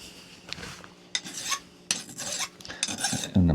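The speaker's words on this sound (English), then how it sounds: "And I'm scraping, I can hear those chunks of rock coming out in the rough areas." A flint-knapping rod tip is filed and scraped to resharpen it, giving close, irregular rasping strokes with gritty bursts and short pauses between them, alone without talk.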